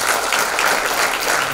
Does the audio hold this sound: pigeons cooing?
no